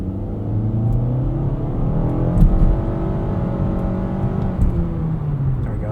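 A 2024 Nissan Altima 2.5 SL AWD accelerating hard from a stop, its engine drone rising steadily in pitch with a continuous whirring interior rumble and no talking.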